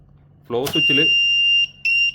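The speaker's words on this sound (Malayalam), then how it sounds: "അതുകൊണ്ടാണ് അലാം വന്നത്." Electronic alarm on a pump controller in a fully automatic one-pump, four-consumer setup with the flow switch not yet triggered, a steady high beep tone sounding continuously, then briefly cutting off and resuming, with a spoken voice at the start.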